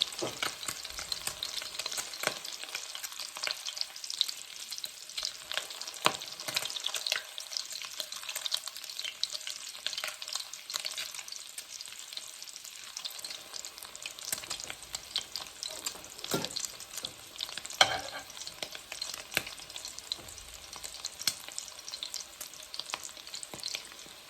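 Shrimp and beef egg foo young sizzles steadily in a pan over medium-low heat, a continuous crackling fry with occasional louder pops, close and alone with no talking.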